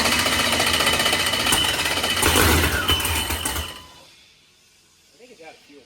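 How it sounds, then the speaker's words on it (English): A boosted car engine fitted with a blower cranks and sputters loudly for about four seconds before cutting out, followed by quiet with brief speech at the end. "All right, first blower fire up attempt."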